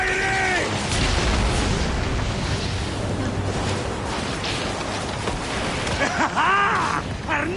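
Cannon fire during a ship battle in Assassin's Creed Origins, heavy booming blasts under a constant roar of game noise, with shouted voices and whooshing projectiles.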